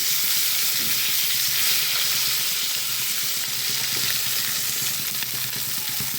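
Fish frying in a pan after being turned over, with a loud, steady, close sizzle and crackle of hot oil that continues evenly without pause, with no voices.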